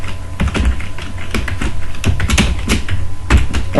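Fingers type on a computer keyboard, a fast, uneven patter of close, clear key clicks with no talking.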